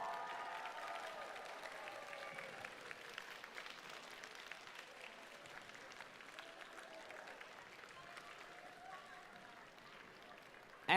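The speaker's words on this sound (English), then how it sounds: "So students, please give a standing round of applause to all of your mentors for all of their hard work." A large standing audience at a robotics district event applauds for mentors, a sustained wash of distant clapping from a big crowd, with faint voices and cheering mixed in.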